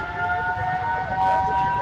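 A civil defense siren wails steadily during a blackout mock drill in Amritsar, a loud sustained tone with slight waver and no break, heard alone without talk.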